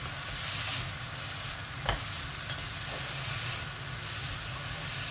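Fried instant noodles seasoned with ground pepper and chicken spice blend hiss quietly in a pan as they are stirred, with a steady low sizzle and a couple of brief utensil scrapes.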